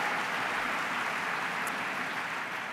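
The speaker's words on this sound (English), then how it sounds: "Round of applause for Karen." Steady, broad clapping from a large crowd fills the whole stretch, even and sustained without any pauses or voices on top.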